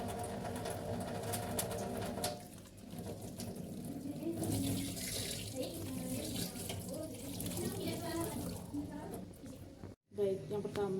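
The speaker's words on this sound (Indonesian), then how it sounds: "saya akan melakukan cuci tangan dengan 6 langkah ya." A water tap runs steadily for handwashing during a physical examination, a continuous watery hiss with a brief gap near the end, under speech.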